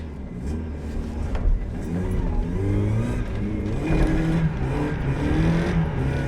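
A Mazda MX-5 Miata revs and accelerates on a drift track, its engine note climbing and dropping repeatedly, loud and close throughout with no talk.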